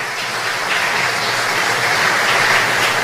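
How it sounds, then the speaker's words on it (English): Audience at a Belizean patriots tribute ceremony applauds, a steady, fairly loud hiss of many hands clapping together without any voices over it. "And another round of applause for Miss Jamie Lee Usher"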